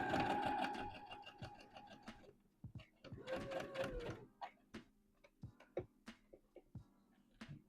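A sewing machine stitching a dress seam for a McCall's M8141 misses' dress runs in a short burst, then gives way to a few quiet ticks and taps, close by, with someone talking.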